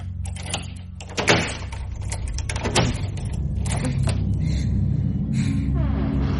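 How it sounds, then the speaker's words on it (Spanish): A bedroom door creaks and thunks as it swings slowly open, followed by a rising low rumble and faint rustling, with no voices. "La puerta se abrió despacio."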